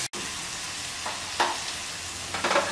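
Onion, tomato and curry leaves fry in a pan for cabbage poriyal, a steady close sizzle broken by a few louder scraping stirs near the middle and end.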